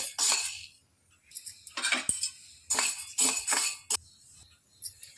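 Sago pearls dry-roasted in a pan, giving scattered bursts of dry rattling and scraping as they are stirred, short clinking strokes separated by quiet pauses.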